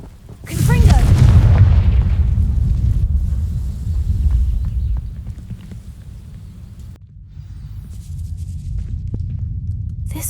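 A Confringo fire spell in Hogwarts Legacy bursts into flame on dry vines: a loud, booming whoosh that swells quickly, then settles into a long low roar and crackling rumble that fades and rises again.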